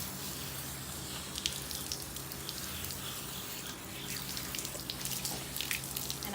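Running water rinses a dog during a bath and patters steadily and faintly from close by. Splashes and drips rise and fall, with no talk over them.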